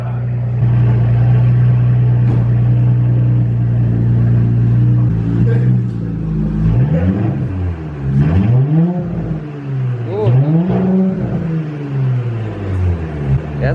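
A 2018 Audi S5 with an AWE exhaust idles with a steady low drone, then revs in repeated rising and falling surges, loud and close.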